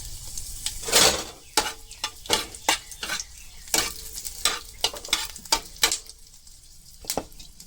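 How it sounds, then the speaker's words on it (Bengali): Two broken dried red chillies fry in oil in a pan previously used for fritters, with a soft sizzle under repeated sharp scraping and stirring strokes of a utensil against the pan, close and irregular. "তেলের মধ্যে আমি শুকনা মরিচ দুইটা ভাঙ্গিয়া দিলাম"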